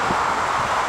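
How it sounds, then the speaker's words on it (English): Gusty wind buffets the microphone in a steady, close roar with a soft rustling texture, no voices. "Whoa, very windy."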